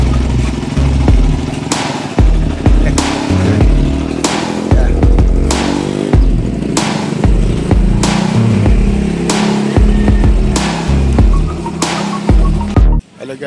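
A Batman motorcycle's engine runs steadily after its starter battery is repaired, a loud, close, continuous rumble with repeated revving bursts and mechanical clatter, ending abruptly.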